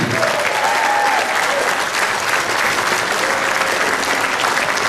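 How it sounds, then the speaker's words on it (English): A big crowd at a jazz festival applauds a Kansas City jazz band, sustained loud clapping that stays even for several seconds, with faint whistles or cheers above it. "Let's hear a big round of applause for them."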